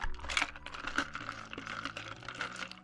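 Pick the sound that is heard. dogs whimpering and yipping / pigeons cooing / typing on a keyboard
typing on a keyboard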